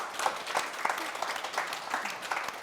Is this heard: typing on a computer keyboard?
no